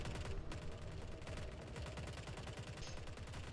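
Rapid bursts of gunfire in The Forever Winter crackle in quick succession, somewhat muffled and distant, forming a continuous rattling volley with no voices.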